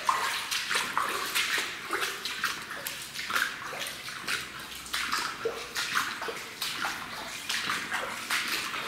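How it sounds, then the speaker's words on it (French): Footsteps wade through water in a flooded basement, producing continuous sloshing and splashing with rhythmic surges, close and moderately loud. "Désolé pour les bruits d'eau"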